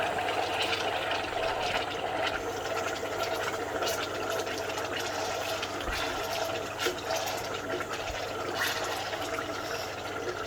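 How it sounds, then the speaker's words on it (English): Ginger and garlic paste bubbling in a cooking pot, a steady close sizzling, watery bubbling that continues without a break and has no talk over it. "So as you can see, it's bubbling up."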